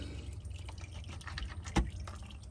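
Engine oil from a 2015 Toyota Camry drips into a drain pan with soft, close, irregular drips and one louder splash, under a low steady background hum.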